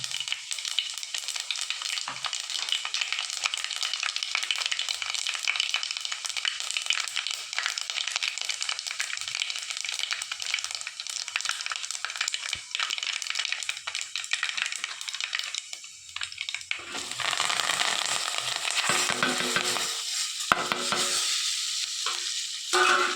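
Fish curry masala sizzles and fries in a pan while being stirred, a continuous close hiss with scraping that brightens and intensifies toward the end.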